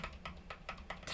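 Keys clack in a quick, uneven rhythm on a mechanical keyboard fitted with Akko Jelly Black switches, about half a dozen sharp, close strokes, moderately quiet, with no talking.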